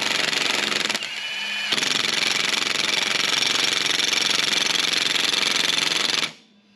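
A wire brush, likely power-driven, scours a transmission part on a 1939 Caterpillar D4 crawler tractor, a loud, steady, gritty whirring that dips briefly near the start and cuts off abruptly at the end.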